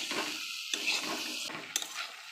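Red amaranth stems are stirred in a pan over soft sizzling, with a couple of sharp scrapes of the spoon against the metal, close and quiet.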